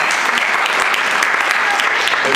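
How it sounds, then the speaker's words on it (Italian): Brisk, full applause rises from a crowd at a classic car rally awards ceremony in Treviso, a continuous burst of many hands clapping close by. "un applauso a Luciano"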